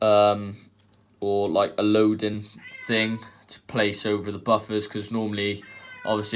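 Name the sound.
cat meowing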